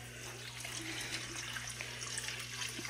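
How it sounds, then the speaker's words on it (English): Milk and water mixture poured from a measuring cup into a pan while making biscuits, a continuous trickling, splashing stream of liquid over a steady low hum. "Pour the liquid in the measuring cup into the pan"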